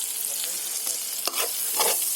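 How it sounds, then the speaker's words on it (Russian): Salted carp roe sizzles and fries in a pan outdoors over a campfire, a loud, steady hiss with a few crackles and pops. No one speaks over it. "Здесь сейчас будет жариться наша икра сазуну."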